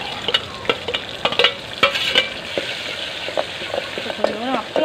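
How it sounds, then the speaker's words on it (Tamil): Onions, tomatoes, fenugreek, curry leaves and green chillies fry in hot sesame oil for a fish curry, giving a steady close sizzle with scattered stirring clatters and a brief voice near the end. "இப்போ மீன் குழம்புக்கு பாத்திரத்தில் நல்லெண்ணெய் ஊற்றி அதை கொஞ்சம் வெந்தயம் வெங்காயம் தக்காளி கருவேப்பிலை பச்சை மிளகாலாம் சேர்த்து வதக்கிட்டுருக்கோம்"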